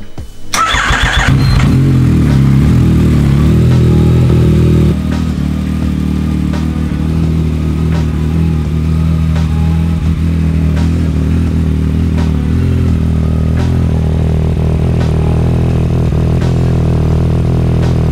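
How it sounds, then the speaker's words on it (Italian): A motorcycle engine cranks and catches, then settles into a loud, steady idle as it warms up ahead of an oil change, with light mechanical clatter throughout. "facciamo scaldare il motore così da far defluire più facilmente l'olio"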